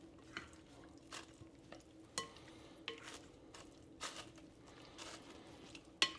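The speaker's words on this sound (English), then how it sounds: "Give it a quick stir." Ahi poke gets a quick stir in a bowl, making soft, irregular scraping and clinking strokes with a few sharper utensil taps, fairly close and quiet.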